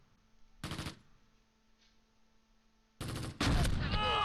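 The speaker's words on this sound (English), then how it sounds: "Let's just keep some indirect fire on this." Bursts of gunfire from the WWII strategy game Close Combat Gateway to Caen: a short rattling volley, a quiet gap, then a heavier sustained burst of shots and explosions, with a faint voice in the lull.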